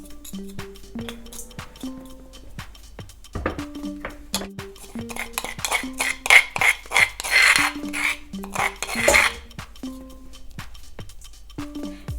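Som tam papaya salad ingredients pounded in a mortar in a home kitchen, a steady series of close knocks and thuds with clinks of utensils, rising into a louder cluster of pounding in the middle.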